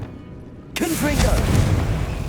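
A Confringo fire spell explodes in Hogwarts Legacy, a sudden loud boom that cuts in after a quiet moment and rumbles on, while a voice speaks over it.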